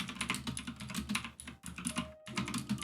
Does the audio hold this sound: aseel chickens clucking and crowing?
no